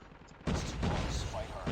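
Gunfire in a Call of Duty match crackles in a dense rapid burst after a brief quiet moment, loud and continuous, with game sounds layered over it.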